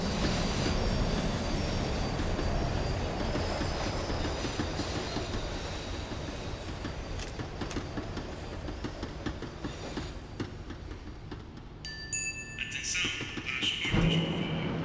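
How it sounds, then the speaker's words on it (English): A tram in Max Payne 3 grinds along the rails as it slows, with loud continuous rumble, squealing wheels and clattering, before a sharp metallic screech and tones near the end. "The tram was slowing down, and I'd only just gotten on board."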